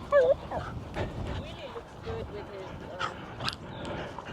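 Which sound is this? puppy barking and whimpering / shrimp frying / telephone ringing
puppy barking and whimpering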